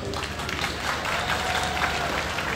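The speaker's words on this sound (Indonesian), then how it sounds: "Mari kita beri tepukan gemuruh pada penganjur pada malam ini." Thunderous applause from an audience at an evening stage show, honouring the organisers: dense, continuous clapping with a faint crowd murmur.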